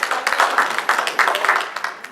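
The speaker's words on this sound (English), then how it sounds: "And a round of applause for Georgia for doing that." Conference audience applauding in a hall, dense overlapping claps with sharper bursts throughout, fairly loud and steady, no talk over it.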